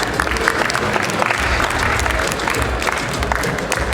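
A crowd at a gala honoring women making impact applauds as an honoree takes the center of the stage, sustained mixed clapping with some crowd murmur throughout, fairly loud and continuous.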